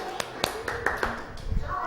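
Children in a classroom give a short, sparse round of clapping. A handful of distinct, separate claps ring out close by, with light voices in between.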